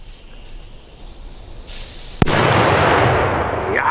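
A Privatex 'Bonbon' Polenböller firecracker going off outdoors: a sharp crack, then a loud sustained hissing roar that runs on for well over a second, preceded by a quieter fizz.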